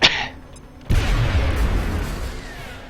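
A grenade blast in the turn-based strategy game XCOM: Long War: a sharp crack, a short pause, then a loud, low booming roar that rumbles on and slowly fades.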